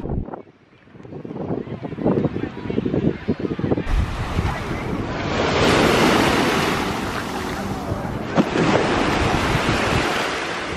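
Ocean waves roll and crash on a beach in Porto, Portugal, a loud continuous wash that swells and recedes, with heavy wind buffeting the microphone and surging roar in the middle.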